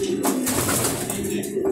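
Male racing pigeons coo in a loft, a close, steady low cooing that runs through the whole moment with a faint hiss behind it.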